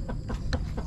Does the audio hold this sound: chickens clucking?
yes